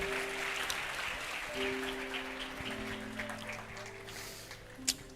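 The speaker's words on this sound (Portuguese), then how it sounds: "Tome o seu lugar aplaudindo ao Senhor." A church congregation claps in praise during a worship service, a soft, distant patter of hands beneath sustained keyboard tones.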